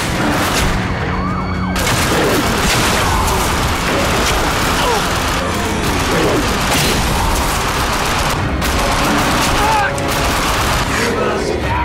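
Sustained gunfire from The Darkness II plays loudly and densely under game sound effects and a swelling score, continuing without a break.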